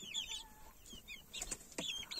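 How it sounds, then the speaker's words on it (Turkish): Ornamental chickens inside a tent cluck and chirp softly at close range, with scattered short calls and faint rustling throughout. "Bunlar 3 tane tavuk var galiba şu beyazlarda."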